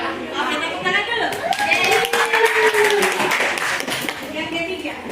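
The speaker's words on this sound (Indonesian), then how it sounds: "Oke, tepuk tangan dulu." Classroom clapping by students during a guidance counseling session, a burst of hand claps mixed with children's chatter and a teacher's voice talking over it.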